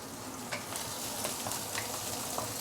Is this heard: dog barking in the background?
no